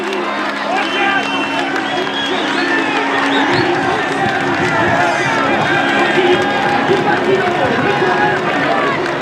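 Large crowd at the Fleche Wallonne cycling race finish, a steady dense roar of cheering and babble with scattered claps, loud and continuous throughout.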